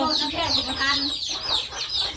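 Ducks and chickens cluck loudly and continuously close by, a dense chorus of overlapping squawks and clucks that fills the whole moment.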